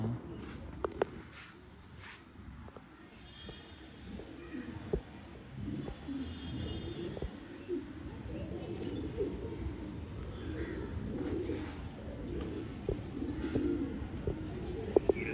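An old line pigeon coos softly and repeatedly amid other bird calls and chirps, with background noise and occasional voices nearby.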